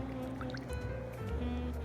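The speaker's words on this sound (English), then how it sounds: "I'm going to go ahead and pour the syrup from the can," Canned peach syrup poured into a dessert mixture, a soft continuous liquid trickle and splash close by, steady throughout with a faint low hum underneath.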